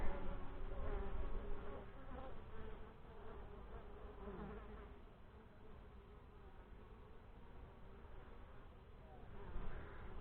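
Honey bees from a hive drone in a dense, continuous buzz during an August hive inspection, close and steady throughout, with a faint voice murmuring underneath at times.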